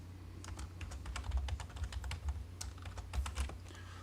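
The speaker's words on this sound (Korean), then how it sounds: "단축키 BR을 입력하고 엔터 클릭하시면 됩니다" A computer keyboard clatters in quick, close, fairly quiet bursts of keystrokes as a drafting shortcut is typed and entered, with no voice.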